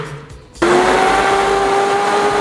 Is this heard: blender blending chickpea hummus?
yes